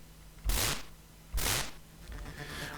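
Custom sound effect number 3, made in the AGD retro video game engine, heard as two short bursts of noisy hiss at regular spacing, followed by a softer crackling tail.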